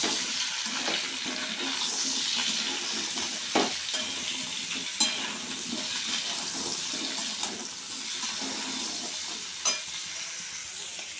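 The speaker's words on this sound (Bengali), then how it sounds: "ফুলকপি আলুটা ভাজছি" Cauliflower and potatoes fry together with whole garam masala in a pan, producing a continuous close sizzle broken by a few sharp clinks and scrapes of stirring, steady and unaccompanied by talk.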